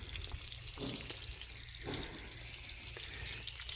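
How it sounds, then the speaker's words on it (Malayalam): Water sprayed from a hose pipe splashes onto laterite stone walls, a steady soft hiss and patter of spray with fainter bursts as the stream shifts, no speech. "ഞാൻ പൈപ്പ് കൊണ്ടുപോയി മുകളിലേക്ക് അടിച്ചു അതുകൊണ്ട് ചേമ്പിൻ്റെ ഇലയിൽ വെള്ളം ഒഴിക്കുന്ന മാതിരില്ലേ തെറിച്ച് തെറിച്ചിങ്ങനെ വെള്ളം പോരും"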